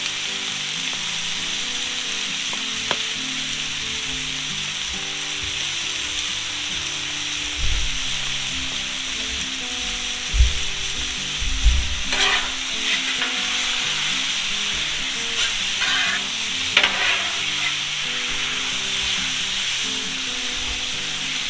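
Philly cheesesteak meat seasoned with salt, pepper and garlic rub frying on a Blackstone griddle, a steady loud sizzle throughout with occasional spatula scrapes and taps on the flat-top.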